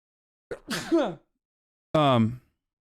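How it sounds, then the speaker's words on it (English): A single sneeze-like burst with a sharp intake, then after a pause a second voiced exhalation, close and fairly loud against silence. "Hold on, I gotta sneeze"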